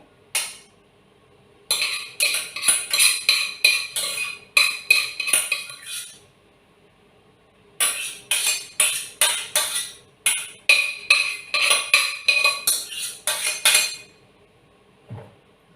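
Metal utensil scraping and clinking against a pan while fried rice is stirred, coming in bursts of rapid rhythmic strokes with short pauses between them, close and fairly loud, no talking.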